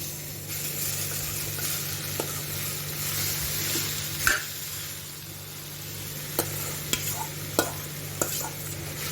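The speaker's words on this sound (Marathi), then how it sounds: "आता घेतलेली मॅस केलेली बटाटी आहे ती टाकते ती पण परतून चांगली घेते" Mashed potatoes sautéing in oil in a pan for a bread patties filling, a continuous soft sizzle with a few sharp spatula clicks against the pan near the end.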